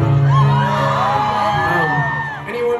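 A concert crowd cheers and whoops loudly and steadily, with high whistling yells rising over the dense roar of many voices, close and sustained throughout.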